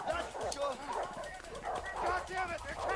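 Dogs in the video game A Way Out bark and yip in rapid bursts, heard under excited overlapping talk from players.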